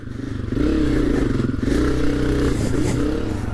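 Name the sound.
Honda CRF250F dirt bike engine revving on hill climb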